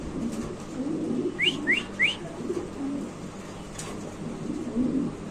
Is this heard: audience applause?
no